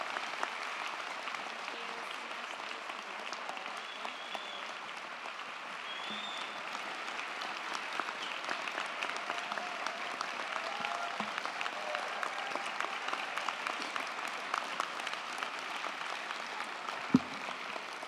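Sustained applause from a large audience at a university education school commencement ceremony, a steady dense wash of clapping that continues evenly at moderate distance, with a faint murmur of the crowd.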